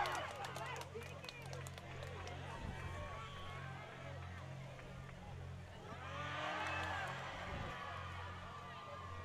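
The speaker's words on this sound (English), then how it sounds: "Crowd getting into it here" Spectators at a girls' soccer match between Germantown Academy and The Hun School of Princeton cheer and shout from the stands, a distant, rising crowd murmur with a swell near the end, heard under close commentary.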